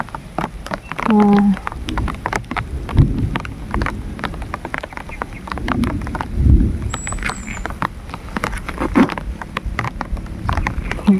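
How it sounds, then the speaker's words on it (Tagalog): Heavy rain patters densely on a surface, with sharp drops and occasional louder thumps over a low rumbling background. "Malakas-lakas ng ulan na to ha."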